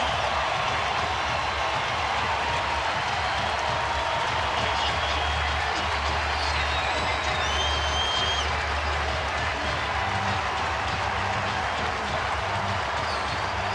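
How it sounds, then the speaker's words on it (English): At a Cubs–Dodgers baseball game in Los Angeles, 2013, a stadium crowd applauds as pitcher Zack Greinke walks off the mound, a broad, steady roar of distant clapping and crowd noise. "Greinke should get a round of applause, and does, as he walks off"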